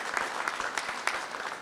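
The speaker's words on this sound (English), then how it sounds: "So just give yourselves another round of applause for being here and being part of this event." A room of attendees at a Mississippi Municipal League press conference gives a short round of applause, steady crowded clapping at moderate level with no speech over it.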